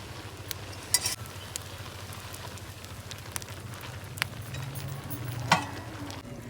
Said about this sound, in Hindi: और अब मैं डालूंगी इसमें पालक।